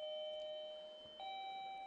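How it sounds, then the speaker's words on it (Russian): A wireless doorbell gives a clear two-tone electronic chime, sounding once and then stepping to a second note, at moderate volume in a quiet room. "Сигнал звонка может включаться с помощью пульта дистанционного управления."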